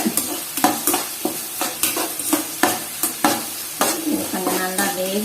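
Onions fry in a pan for a chilli kolukattai dish while a utensil stirs them. Rhythmic scraping strokes sound close over a continuous sizzle, with no talking.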